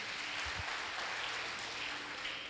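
Church congregation at a Portuguese-language evangelical service applauding, a soft, fairly distant wash of clapping that holds steady throughout, with a couple of low thumps near the start.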